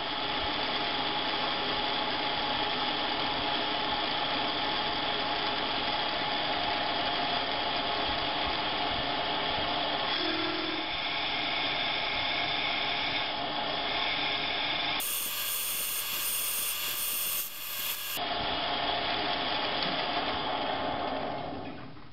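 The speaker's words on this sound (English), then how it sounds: "Alright, all the holes are drilled." A drill bores holes into a chuck backplate in a steady, loud mechanical whir that runs without a break, with a brief shift in pitch midway and no talk.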